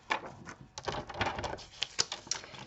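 Paper being cut for a handmade card, heard as a quiet series of crisp snips and rustling clicks with uneven rhythm, close and faint.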